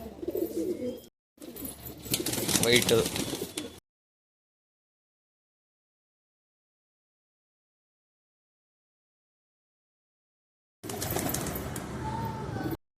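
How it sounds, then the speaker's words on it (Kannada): Pigeons in a loft holding about 25 birds coo faintly beneath people talking nearby, in two bursts separated by a long stretch of silence. "ಇಲ್ಲಿ 25 ಪಾರಿವಾಳಗಳು ಇದಾವೆ"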